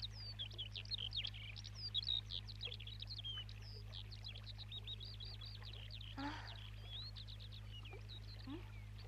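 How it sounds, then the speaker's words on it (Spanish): Small birds chirp and tweet in quick, high, overlapping calls, faint and distant over a steady low hum, with a brief rustle partway through and no talk. "Ahora que me doy cuenta, hacía mucho tiempo que no veíamos pajaritos"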